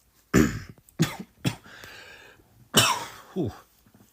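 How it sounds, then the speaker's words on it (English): A close coughing fit: several harsh, explosive coughs in uneven bursts separated by short pauses, with a raspy breath between them. "Suddenly had a coughing fit there."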